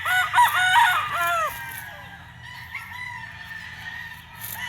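A gamecock at a Filipino game farm crows loudly and close, a long harmonic cock-a-doodle-doo in the first second and a half, followed by quieter farmyard background with faint distant crowing.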